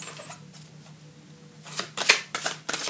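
Two decks of cards being handled and shuffled, quiet soft rustling at first, then a cluster of louder, crisp riffling bursts near the end, with no voices.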